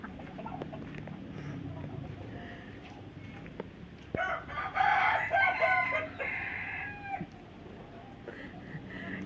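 Laughing chickens from Indonesia crow and cackle on a farm in Asia, with a loud burst of rapid, chattering calls in the middle over a busy background of other birds and faint voices.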